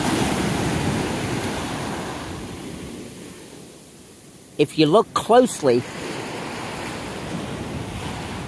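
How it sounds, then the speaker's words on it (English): Ocean surf at Ocean City, Maryland, with swells building ahead of Hurricane Ernesto: waves wash and roar amid gusty wind buffeting the microphone, fading briefly while someone speaks over it. "No doubt the swells will be getting bigger, but it's those rip currents."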